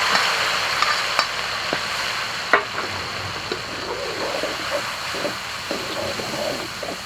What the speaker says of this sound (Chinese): 下入1碗的泡椒